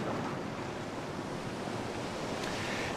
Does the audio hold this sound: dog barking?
no